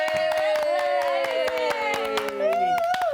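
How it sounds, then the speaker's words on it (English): Family clapping for a small child at the breakfast table at home, a run of sharp, uneven claps close by under high-pitched cheerful voices and singsong talk throughout. "You're going to give Isaac a big clap?"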